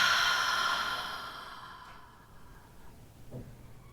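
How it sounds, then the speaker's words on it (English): Slow, deep breath drawn in and let out during a guided group breathing ritual, a soft broad airy rush that fades gradually over several seconds with a faint catch near the end, heard alone without talk. "take that deep breath in. And keep going, keep expanding, fill up the lungs, and exhale"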